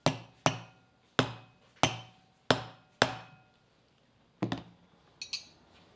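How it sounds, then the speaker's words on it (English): A rubber mallet knocks an EV manifold loose from its crankcase in six evenly spaced, sharp thuds, then a few quieter double knocks, close and with no talk. "Use a rubber mallet to separate the manifold from the crankcase."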